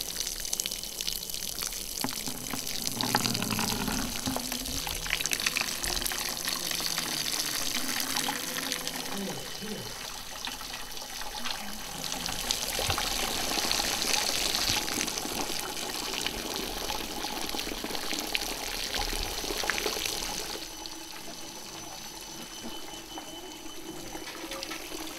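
Water is poured from above onto boxes of soil to mimic a thunderstorm downpour, producing a steady splashing gush that runs for about twenty seconds, with occasional speech alongside.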